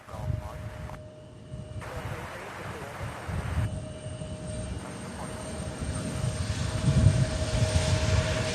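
Aircraft engine rumbling at Louisville's SDF airport as a plane pulls out, a steady roar that swells toward the end, with radio chatter and talk mixed in.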